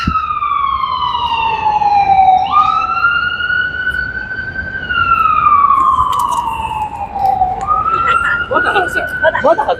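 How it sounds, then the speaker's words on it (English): An ambulance siren wails loudly nearby at a street demonstration in Washington, DC, its pitch sliding up and down in long sweeps, with traffic rumbling beneath and a voice briefly at the end. "Ambulance."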